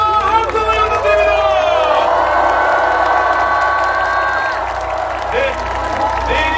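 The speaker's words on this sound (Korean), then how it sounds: "큰 박수와 함성을 부탁드립니다" A large crowd at an outdoor political rally in Yeouido Park, Seoul, cheers, shouts and applauds in one loud, continuous roar with some high whoops and voices in it.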